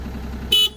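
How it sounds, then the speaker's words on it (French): A construction machine's horn, tested during a pre-shift check on a French worksite, gives one short, loud blast of about a fifth of a second that cuts sharply above a low idling rumble. "Le klaxon fonctionne."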